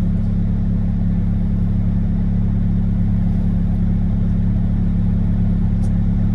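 Engine of a 2022 Bobcat T62 compact track loader running steadily, a loud continuous low diesel rumble with constant drone and no change in pace, close by, no voices.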